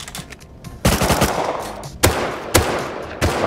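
Gunfire in the survival game Rust: loud, sharp shots crack out one after another, a short burst followed by several separate bangs spaced about half a second apart, each ringing out against low background noise.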